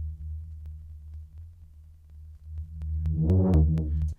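A synth patch for minimal techno plays without its filter envelope, producing a sustained low tone with a steady hum, then a brighter swell near the end.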